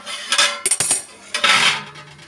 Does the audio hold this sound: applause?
no